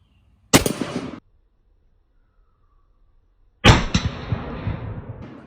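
Two loud .308 rifle shots strike an AR500 steel armor plate outdoors, each a sharp crack with a brief ringing tail, about three seconds apart with silence between.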